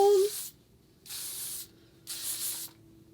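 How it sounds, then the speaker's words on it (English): Three short bursts of Orbe Superfine hairspray are sprayed onto hair, each a soft, close, breathy hiss of about half a second with quiet gaps between them. "I'm going to apply this Orbe Superfine hairspray."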